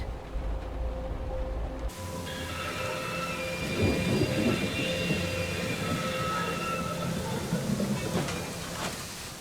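Thunder rumbles and rolls through a storm in the Syberia video game, a long, loud, deep growl layered over steady rain noise with no pause.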